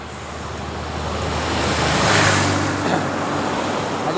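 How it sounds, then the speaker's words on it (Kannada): A government bus on a mountain road rushes past with a broad engine and road roar that swells, peaks near the listener and fades under wind noise, heard by cyclists travelling from Rishikesh to Kedarnath. "ಅದು ಗೌರ್ಮೆಂಟ್ ಬಸ್ ಇವಾಗ ಹೋಯ್ತಲ್ಲ."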